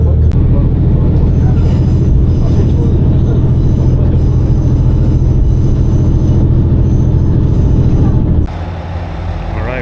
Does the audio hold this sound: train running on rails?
yes